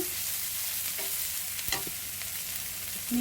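Chicken cutlets fry in a pan with a faint, even sizzle, broken by a brief sharp clatter midway.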